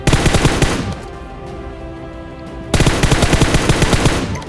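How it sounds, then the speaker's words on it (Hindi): Loud bursts of automatic gunfire in a battle royale video game, rapid repeated shots with a lull of quieter ambient noise in the middle before the firing resumes. "वो अंदर किसी पे तो फायर कर रहा था"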